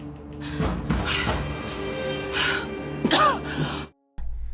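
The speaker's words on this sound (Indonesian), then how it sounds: "Ia mulai susah bernafas, tenggorokannya seperti tercekik, dan ia terbatuk-batuk." Strained coughing and choking sounds with gasping breaths over a low background, ending abruptly after a short silence.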